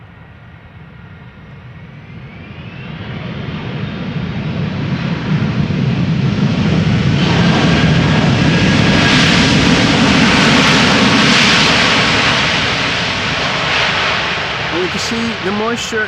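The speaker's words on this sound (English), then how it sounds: "Let's have a look at the landing of Delta Airlines Flight 136." Delta Airlines Flight 136, an airliner first flown in October 2006, lands at Amsterdam Schiphol on a wet runway; its roar builds from distance, peaks loud near the middle, then eases, with speech heard.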